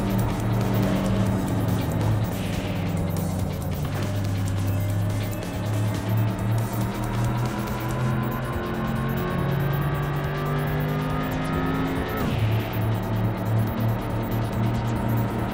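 A virtual car in the Import Tuner Challenge racing game lugs at low revs in fourth gear, its engine droning loud and steady with a slowly climbing pitch before a sudden drop near the end, alone without voices.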